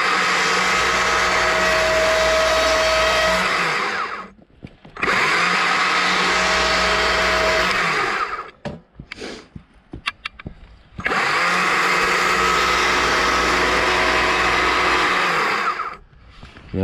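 A chainsaw roars in three long, loud close bursts while carving a wooden bear, with short pauses between cuts filled by faint knocks and handling sounds.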